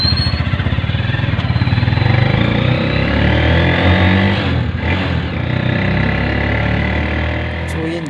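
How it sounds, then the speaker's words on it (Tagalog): A motorized tricycle's engine runs steadily throughout a test drive, a loud close mid-pitched motor drone with rhythmic pulsing early on and a brief dip in the middle, with no talking over it. "Yan, iti-test drive din namin yung tricycle."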